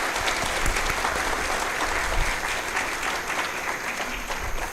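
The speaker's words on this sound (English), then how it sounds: "a wide round of applause and thanks to all students who made this event" An audience at a student design marathon event gives a sustained round of applause, steady and fairly loud throughout with no talking.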